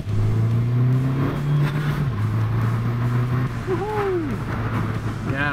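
A MINI Cooper S engine accelerating in sport mode, loud and close, with a steady drone that rises in pitch through the gears, joined by brief whistling tones near the end.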